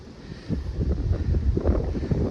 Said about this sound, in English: the wind is blowing like crazy up here.